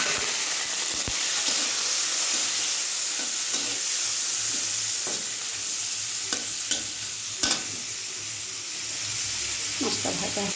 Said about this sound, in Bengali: এই তেলটা দিয়েই মাছটা ভেজে নেব।